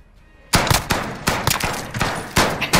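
Several gunshots ring out in a video game, loud and close, spaced about every quarter second after a quiet start.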